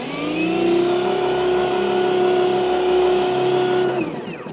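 An EGO cordless lawn sprayer runs through an adjustable hollow cone nozzle, its motor whining at a steady, loud pitch with a hissing spray for about four seconds before cutting off.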